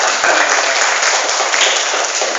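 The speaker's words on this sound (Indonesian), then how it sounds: "Nah, tepuk tangan semuanya." A crowd claps loudly and continuously, dense applause filling the whole stretch without pause.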